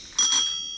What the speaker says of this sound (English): I've never had a bell on this thing.